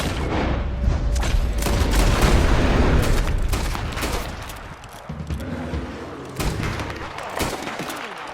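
Gunshots fired at a bear during a hunting attempt, a dense run of loud cracks and booms in rapid succession that later thin out into scattered sharp reports, with voices faintly under the shots.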